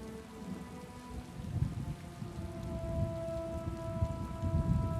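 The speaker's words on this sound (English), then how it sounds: "I could do without this damnable rain. It's been storming since we arrived" Steady rain pours in a stormy scene in the game Elder Scrolls Online, a dense continuous hiss of drops drumming on surfaces with no talk over it.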